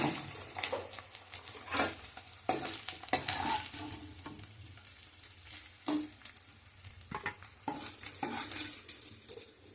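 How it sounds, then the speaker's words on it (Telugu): Dried fish pieces frying in a pan, a quiet, uneven sizzle broken by scattered scrapes and stirring knocks, with a few splashy bursts, heard alone without talk. "ఎండు చేపల ముక్కలు ఇలాగ వేయించుకుంటేనే బాగుంటుందండి"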